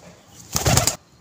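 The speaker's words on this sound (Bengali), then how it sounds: "এটা মাদা পায়রা।" A pigeon, a female bird offered for sale, gives a short burst of wing flapping near the microphone, loud for about half a second against a quiet background.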